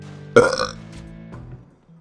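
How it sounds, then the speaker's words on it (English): A single loud, close burp with a rough, rumbling onset that trails off into quiet, alone with no talk. "I burped."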